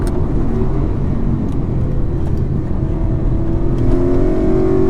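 A BMW M3 V8 engine in a BMW 135i drones and rises steadily in pitch, a continuous throaty roar building toward the end with no pauses.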